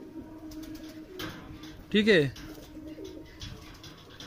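Madrasi and Golden Eye pigeons coo nearby, a clear rolling coo rising out of background chatter, with people talking throughout.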